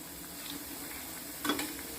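Gobi 65 cauliflower pieces fry in oil with a soft, low sizzle and one brief louder burst of bubbling as they are stirred.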